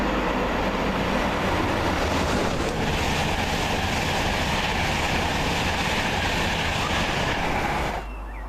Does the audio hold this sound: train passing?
yes